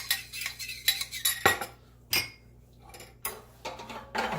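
A utensil stirring parsley into a sauce in a pan during shallow poaching of fish, with scattered light metallic clinks and scrapes in an irregular rhythm, fairly quiet.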